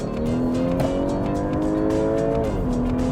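An Audi A5 Sportback engine accelerating in sport (dynamic) mode, a loud, steady, rising engine tone heard from inside the car, with a brief dip near the end as it shifts.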